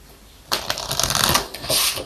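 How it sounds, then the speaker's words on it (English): Tarot and oracle cards being shuffled by hand: after a quiet start, a close, crisp run of riffling and flapping card noise continues steadily to the end. "let's get some more oracles, and then we'll go into the tarot"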